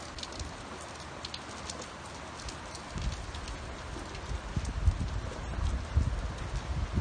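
Heavy rain pours steadily in Las Vegas during flooding, a dense wash of noise that swells louder in the second half, with no voices.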